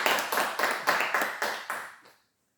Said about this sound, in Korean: 우리가 감사한 마음으로 박수 한번 할까요?